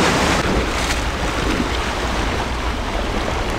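Sea waves on a Beibu Gulf beach beside a seaside house built on rocks, a loud continuous surf roar with heavy wind rumble against the microphone and no speech.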